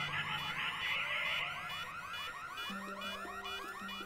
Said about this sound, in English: Oh, we have an alarm.